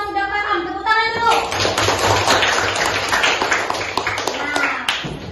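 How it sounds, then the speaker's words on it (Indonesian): A classroom of children at an Indonesian madrasah claps hands together in a burst of close, loud, rapid applause, with an adult voice speaking at the start and children's voices mixed in throughout. "Tepuk tangan dulu."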